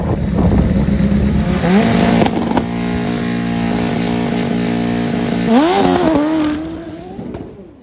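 An old school turbocharged funny bike, a former world-record drag motorcycle, runs steadily up close, its engine droning loudly with a sharp rev and pitch swing near the end before it fades, with no talk.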